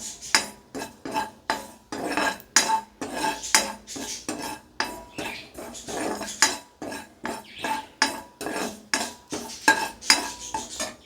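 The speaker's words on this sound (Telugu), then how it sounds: "సిమ్లో పెట్టి వేయించుకుందాం, వెంటనే మాడిపోతాయి." Sesame seeds and poppy seeds lightly roasted on low heat in a pan, with a utensil scraping and clinking against the metal in a regular rhythm of close, sharp strokes throughout.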